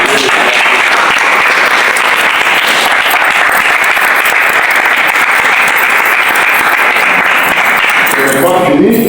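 A large crowd at a political rally in Kasaï Central claps loudly and continuously. Dense applause with cheering fills the whole stretch and fades only at the very end.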